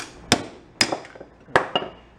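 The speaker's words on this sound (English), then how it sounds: "See if we can whack on it with a plastic hammer and get it to pop away" Plastic hammer whacks on a loosened part, four sharp distinct blows in two close pairs, loud and near with brief ringing tails and no talk.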